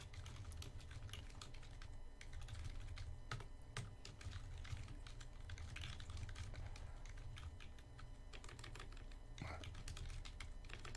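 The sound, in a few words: typing on a computer keyboard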